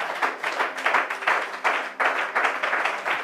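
Congregation at a Christian worship service applauding to acclaim Jesus, a dense continuous wash of many hands clapping in uneven surges, fairly close and filling the room.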